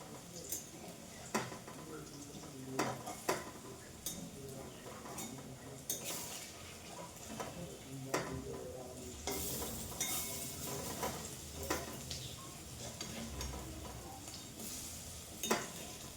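Food being stirred and fried in a kadai, with a soft sizzle under irregular scraping and clinking of a metal spatula against the pan, faint and close.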